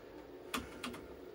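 Two quick, close clicks from keys pressed on an IBM 5150 PC keyboard, spaced about a third of a second apart over a quiet background hum.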